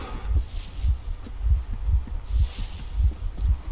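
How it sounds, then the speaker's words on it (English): A player character's heartbeat after running in the video game Metro Exodus: a steady, fast, deep double thump repeating about twice a second, loud and close under a faint airy ambience. "It's my heartbeat right now. When you run, your heart's like all super crazy."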